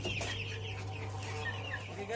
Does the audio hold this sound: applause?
no